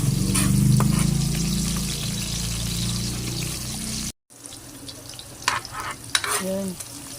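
Onion, garlic and ginger sautéing in a pan for Cebu-style paklay, with a steady sizzle and stirring scrapes, a brief cut, then more stirring and clattering utensil knocks near the end.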